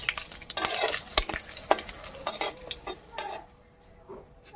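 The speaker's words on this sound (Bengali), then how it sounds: "ফোড়ন ভাজা হয়ে গেছে, দিয়ে দিলাম কিছুটা গোটা গরম মশলা" Whole garam masala of cinnamon, cardamom, cloves, nutmeg and mace fries in hot oil for paneer pulao, with a bright sizzle and repeated loud spatula scrapes and knocks against the pan that settle into quieter frying.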